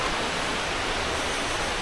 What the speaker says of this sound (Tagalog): Narinig yung ragasa ng tubig.